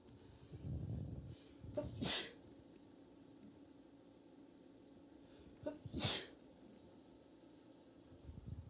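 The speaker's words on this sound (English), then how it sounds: "force out a sneeze here" Two sharp sneezes, a few seconds apart, each preceded by a quick inhaling breath, close to the microphone in a quiet room.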